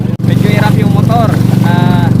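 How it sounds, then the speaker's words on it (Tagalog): Outboard boat motor labouring as it pushes through clear water near Cagraray Island, Bacacay, Albay, a steady close drone running throughout with voices talking over it. "Medyo hirap yung motor,"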